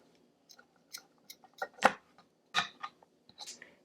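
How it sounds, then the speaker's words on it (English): Scissors snip through pieces of yarn in a handful of quick, close cuts, crisp and irregularly spaced, with quiet gaps between. "these pieces of yarn are a little bit too long, so I'm just going to trim off the extra"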